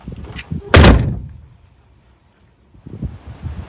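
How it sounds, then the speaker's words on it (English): A car door swings shut with a single loud, close slam, followed by a fading rumble, a stretch of near silence and then faint rustling and wind noise outdoors. "the last part is to make sure you always close your door"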